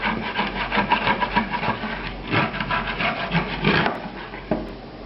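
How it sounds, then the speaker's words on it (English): Scraping browned scallop bits from a pan while deglazing with sherry, a steady rasping, rubbing scrape that comes close and continuous with a few stronger strokes, no talk over it. "Scrape up all these bits."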